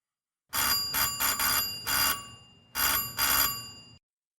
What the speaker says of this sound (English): I thought I heard the doorbell.